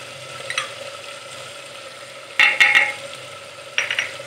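Boneless chicken with garlic and ginger frying in a pot, a continuous close sizzle broken by several loud clusters of spoon-scraping and stirring, no talking.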